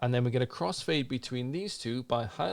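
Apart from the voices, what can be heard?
No distinct noise like a dog, phone or traffic.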